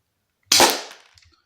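A single sharp crack from an Umarex MOD 92 FS spring airsoft pistol firing, a short snappy report with a quick decaying tail and a faint click after.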